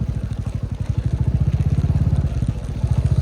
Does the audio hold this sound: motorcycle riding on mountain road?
yes